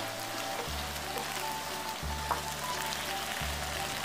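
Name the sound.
stir-frying shishito peppers and fish cake in sauce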